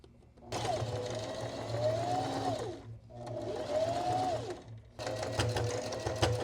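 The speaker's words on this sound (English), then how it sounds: "I can just kind of sew lines towards the middle to keep everything in check" A sewing machine stitches lines across a wrinkled jacket sample in bursts, running steadily, pausing briefly, then running again, close and fairly loud with no talking.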